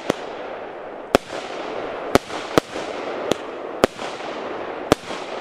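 Fireworks from a pyrotechnic show crackle and hiss continuously while sharp bursts pop at irregular intervals, about seven distinct bangs over a steady roaring background.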